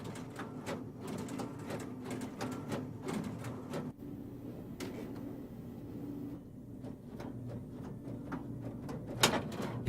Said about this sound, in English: Pick-and-place machines automatically inspect each electrical component before placing it where the solder paste was deposited